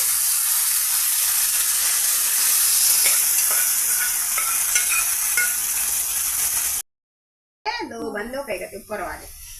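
Boiled cluster beans fry in a pan with a loud, steady hiss and sizzle for most of the stretch, broken by faint stirring taps; it cuts to silence, then a voice speaks briefly.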